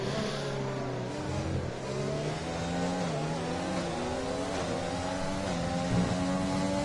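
Race car engine in a Formula-style racing game at the British GP, revving hard with rising, stepped pitch sweeps from gear changes including a double shift, loud and continuous with no talk.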